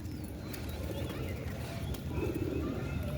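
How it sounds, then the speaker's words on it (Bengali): Pigeons cooing outdoors near a water spot, a soft low repeated coo with a few higher chirps, moderately close under steady background noise. "মাদি পায়রা মনে হচ্ছে তো, ওই পায়রা জল খাইতে নামবে।"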